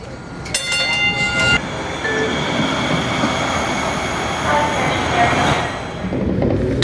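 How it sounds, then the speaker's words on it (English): A Hudson-Bergen light rail train at Newport Station, loud rumbling rail noise with wheel squeal and tonal whines, steady throughout, with a brief chime-like tone near the start. "Now let's go for a ride on the new Hudson-Bergen line. We are at Newport Station."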